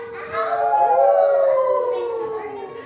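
Several children imitate a wolf howl in a classroom during a story reading, their voices rising and falling together in a loud, sustained group howl lasting a few seconds.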